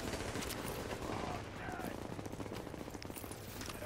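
Rapid gunfire with explosive bullets in The Division, dense and continuous bursts of shots with crackling impacts, loud and near throughout, with a voice faintly mixed in.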